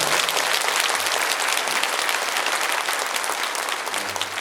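A church congregation at a prayer service gives warm, continuous applause honoring young people who sang a hymn, a full steady wash of clapping with no voices over it.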